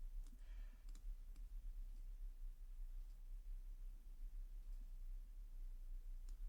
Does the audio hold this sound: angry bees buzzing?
no